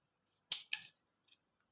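A few quick scissor snips cutting through a plastic straw, close and crisp, with a couple of sharp clicks and a faint trailing snip in a quiet room.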